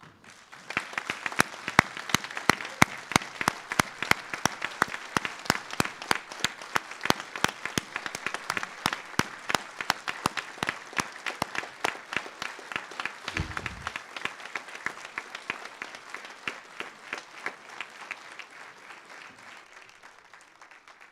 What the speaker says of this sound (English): I now ask the staff to stand and give a huge round of applause to the class of